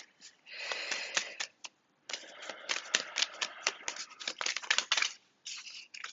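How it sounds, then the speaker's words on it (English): Rapid papery flicking and riffling of tarot cards in bursts, close and fairly quiet, with a brief pause between shuffles. "Okay, let's have an extra bit of a shuffle there."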